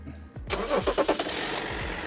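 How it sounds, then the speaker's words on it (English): Range Rover engine cranking over in a quick series of starter pulses, then catching and settling into a steady, close idle, loud with no talking. "Yes, mate, that is an engine, yep."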